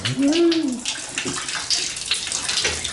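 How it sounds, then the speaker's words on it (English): Water rushing and gurgling down a bathtub shower drain, a steady broadband wash that stays fairly loud throughout, with a brief squeak of the tap being shut near the start. "you can hear that it's really coming out. It is still draining very nicely."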